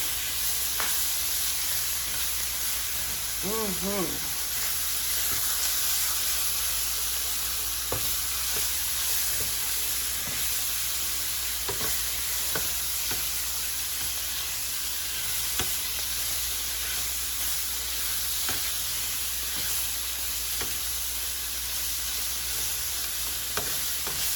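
Bacon cheddar ranch jalapeño popper pasta with chicken is stirred in a pan, a steady sizzle and hiss of frying running throughout with scattered scrapes and clacks of the utensil against the pan.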